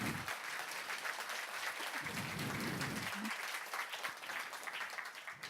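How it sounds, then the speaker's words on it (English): Audience applause at a Canada150&Me forum in Montreal, a steady dense wash of clapping from a crowd that fills the whole stretch, moderately loud and holding even throughout, with no talk over it. "This would be a good time to clap"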